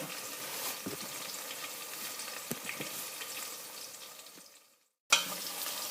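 Onions frying in a pan for a lentil and beef stew give a steady, close sizzling hiss. It breaks off in a brief silence near the end, then sizzles again.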